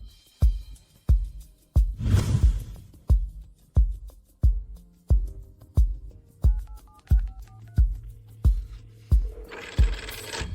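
Phone handset being dialed to call family, a steady run of evenly spaced sharp clicks or key presses close by, with brief tones and a burst of noise near the end and no talking.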